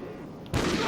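Gunfire in the video game Call of Duty Ghosts erupts as a sudden loud burst halfway through a brief stretch of quiet ambience.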